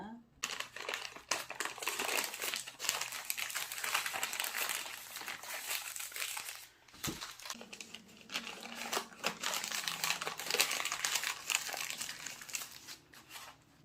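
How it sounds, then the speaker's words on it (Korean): Sheets of cut newspaper crinkling and rustling while potatoes are wrapped for storage, with the paper handled close up in steady bursts throughout and a voice talking over it. "이렇게 신문지를 놓고 자 감자를 포장을 할 겁니다."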